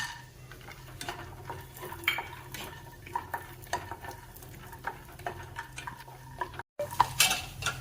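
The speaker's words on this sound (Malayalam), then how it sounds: "അപ്പം നമ്മൾക്ക് കപ്പലണ്ടി വറുത്തെടുക്കണം" Peanuts roasting in a pan lightly greased with ghee, stirred with a utensil that makes repeated light scrapes and taps over a soft sizzle, close and fairly quiet, with a brief cut near the end.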